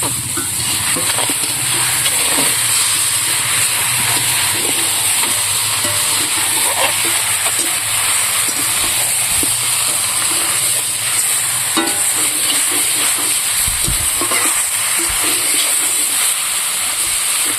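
Marinated chicken sizzles and hisses steadily in a hot pan over low heat, with occasional stirring scrapes and clatters close by; no one speaks.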